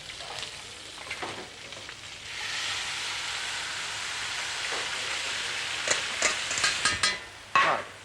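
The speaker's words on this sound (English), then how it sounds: "The sauce I made earlier now has to be strained over this lot" Sauce poured through a chinoise over a dish gives a soft, steady wet hiss and trickle, followed by a few sharper drips and clinks near the end.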